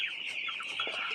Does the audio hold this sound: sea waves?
no